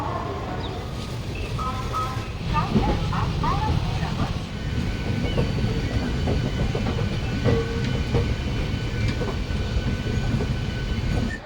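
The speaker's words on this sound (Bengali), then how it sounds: "হঠাৎ করে ট্রেন ছেড়ে দিয়েছে এত সঠিক টাইমে" The Black Diamond Express train runs on rails with a steady loud rumble and intermittent clickety-clack and metallic squeals from the wheels, while voices talk in the background.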